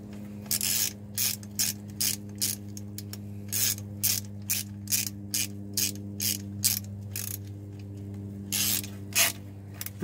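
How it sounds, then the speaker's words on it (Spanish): Ratchet wrench tightening transmission pan bolts on a car, a series of quick clicking bursts repeated in short regular strokes, close and clear over a steady low hum, with no talking. "Ya nada más es ir apretando los tornillos, así como les dije, no mucho, más media vueltita"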